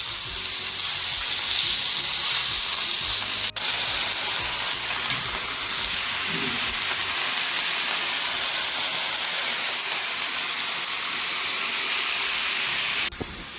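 Onions sizzle on a hot tawa while being fried for a homemade non-veg khada masala, giving a steady, close hiss of frying that runs unbroken and alone for the whole stretch.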